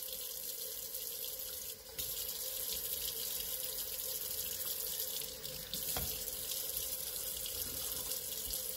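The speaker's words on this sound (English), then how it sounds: "Turn on the hot water." Hot water runs steadily from a faucet into a sink while labels are being cleaned off glass, a continuous close hiss and splash with a couple of brief dips, no talking.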